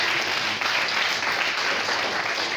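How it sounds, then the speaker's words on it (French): Applause from a school audience at the final of a student quiz contest on environmental themes, a steady dense wash of clapping lasting a few seconds with no talk over it. "Donc applaudissez encore pour lui."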